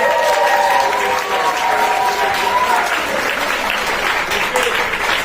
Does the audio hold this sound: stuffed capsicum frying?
no